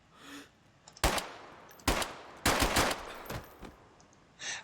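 Gunfire in the video game DayZ: several loud, sharp shots in an irregular burst pattern, some closely spaced, with short gaps of quieter background between them.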